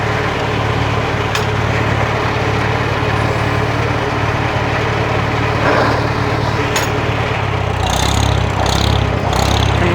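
A 1948 Farmall M tractor engine runs steadily at part throttle, a continuous low rumble with a chugging rhythm that swells slightly near the end, heard close and alone.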